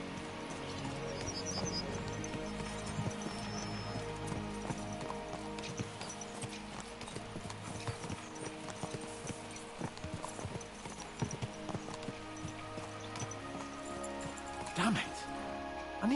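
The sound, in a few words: horses' hooves clip-clopping in the video game Kingdom Come Deliverance 2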